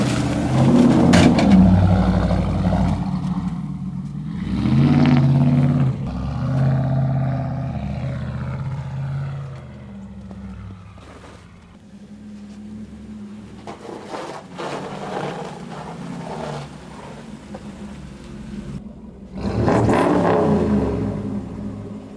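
The Mud Mouse off-road vehicle revs its engine in loud, close bursts that rise and fall, then idles at a lower rumble before a final hard rev.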